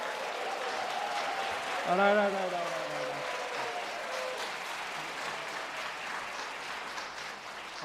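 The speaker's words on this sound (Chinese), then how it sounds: "用个热烈的掌声来欢迎来" At a church revival meeting, an audience claps warmly to welcome a pastor, a steady, dense wash of applause that runs throughout while a voice speaks briefly over it near the start.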